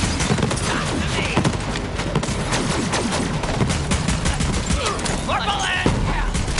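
Rapid, dense gunfire from the video game Borderlands 3, loud and continuous with overlapping shots and bursts throughout, mixed with game effects; a voice talks intermittently underneath.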